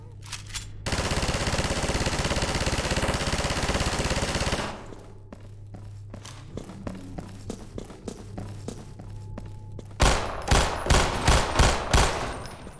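Bursts of gunfire in Half-Life 2: a long, loud sustained automatic volley, then scattered single shots and thuds, then a final run of sharp, loud rapid shots.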